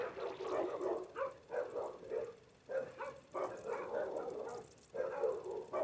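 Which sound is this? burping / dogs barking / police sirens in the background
dogs barking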